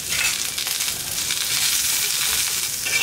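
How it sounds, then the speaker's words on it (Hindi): Onions fry in just a few drops of oil on an iron tawa and are stirred with a spoon, giving a steady close sizzle with soft scraping strokes running underneath throughout. "ये देखिए प्याज को इसी तरह से हमें चम्मच चलाते हुए भून लेना है अच्छी तरह से"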